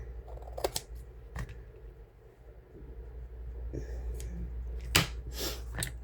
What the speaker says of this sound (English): Go ahead and cut this little piece off here.